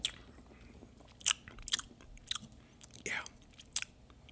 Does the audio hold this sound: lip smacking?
yes